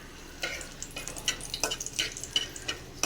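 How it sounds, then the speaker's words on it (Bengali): Dried red chillies crackle in hot oil in a wok, a run of soft, sputtering bursts that come and go close by at a modest level, with no voices over them. "এবার শুকনো লঙ্কাটা ফোড়ন দিয়ে দিলাম।"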